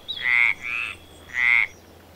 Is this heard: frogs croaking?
yes